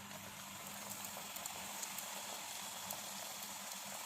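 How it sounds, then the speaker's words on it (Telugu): Dough snacks dropped into hot oil fry with a steady, even bubbling sizzle, a dense crackling hiss that stays at a constant low level throughout with no talking. "ఇప్పుడు ఇది నూనెలో వేసేసుకోవాలి"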